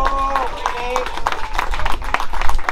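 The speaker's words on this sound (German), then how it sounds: "einen Applaus für den Felix" An audience at a Puch Maxi moped gathering claps for a participant, a short burst of fairly close, uneven applause with voices mixed in.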